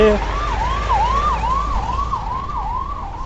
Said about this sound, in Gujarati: અહીંયા એમ્બ્યુલન્સ જાય છે